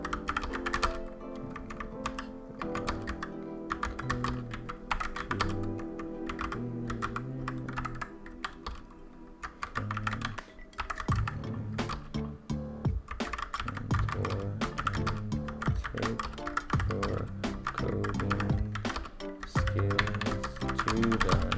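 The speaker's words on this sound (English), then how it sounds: "Alright, typing practice right there." Rapid, continuous typing on a computer keyboard, a dense stream of close clicks and taps over a steady tonal backdrop, with no talking.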